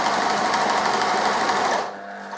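A sewing machine stitches through layers of fabric in one brief, steady, close whir that stops abruptly near the end.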